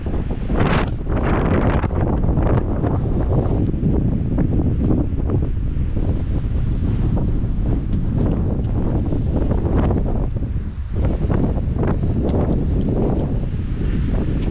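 Strong wind buffets the microphone on a hiking trail, producing loud, continuous rumbling gusts with no letup.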